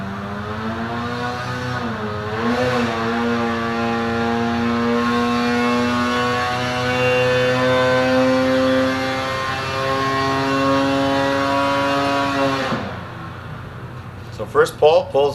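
A warmed-up Polaris 850 snowmobile with an SPI pipe and Torque Link reflash makes a loud, sustained pull, its engine note climbing and holding at high revs for about twelve seconds before cutting off sharply, followed by brief clatter.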